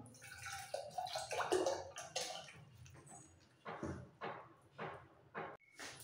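A little water is poured into boiled, mashed matar dal, giving a brief splash and gurgle followed by a few soft wet sloshes and drips, fairly quiet and with no speech.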